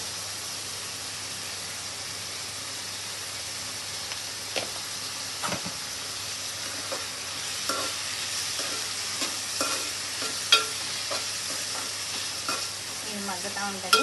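Raw prawns left to soften in a pan for mixed fried rice give a steady, moderate sizzling hiss throughout, with a few scattered clicks and scrapes as they cook, no voices.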